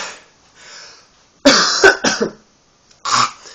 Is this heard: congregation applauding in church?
no